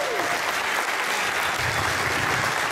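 A concert audience at a 2013 Makar Sankrant music programme applauds a singer. Loud, continuous clapping from a large crowd runs unbroken throughout.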